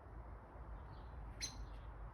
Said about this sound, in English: There's a little robin that's coming along.